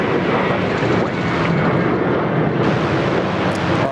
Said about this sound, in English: because we've got another heavy takeoff roll